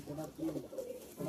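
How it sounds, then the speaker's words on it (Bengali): Pigeons in an Old Madrasi pigeon loft give soft, low, rolling coos, faint and close-set over a quiet background. "এই দেখে নিন পায়রা"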